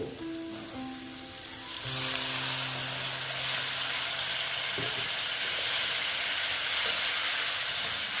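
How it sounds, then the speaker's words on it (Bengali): Water poured into sizzling masala in a pan sets off a sudden loud, steady hiss and bubbling that continues close and alone, after a quieter simmering start. "দেখো এখন আমি একটু জল অ্যাড করে দিচ্ছি"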